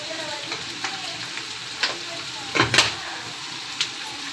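Potatoes and chillies fry in a salted pan, a continuous sizzle punctuated by scraping stirs, with a louder cluster of clatter near the middle and a few isolated knocks.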